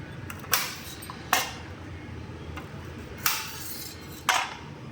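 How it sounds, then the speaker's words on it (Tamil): Knife chopping carrots on a board for veg momos: four sharp separate knocks with irregular gaps, close and fairly crisp over a steady low background. "கேரட் கட் பண்ணிக்கலாம்"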